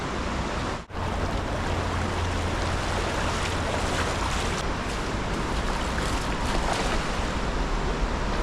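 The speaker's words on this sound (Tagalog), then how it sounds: "Napakalakas po ng baha." Strong floodwater rushes through a forest turned river, a loud, unbroken roar of churning current up close, with wind buffeting the microphone and no speech.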